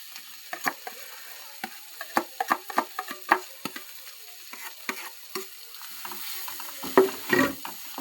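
Potatoes with spices are stirred and fried in a pan for samosa filling, a soft background sizzle broken by a steady run of close scraping and clattering strokes.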